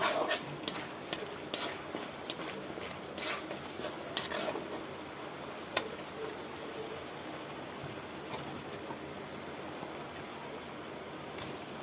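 Fried taro pieces tipped into a pan of sizzling, cooked-down spice masala for an authentic Bengali dish, giving a steady close frying hiss with scattered sharp clicks and scraping knocks of stirring, no talking.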